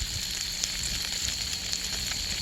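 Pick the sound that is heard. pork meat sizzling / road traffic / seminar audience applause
pork meat sizzling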